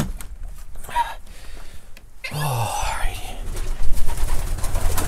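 Pigeons in a loft give soft, low cooing and murmuring calls, close by, mixed with rustling and a few quiet voices.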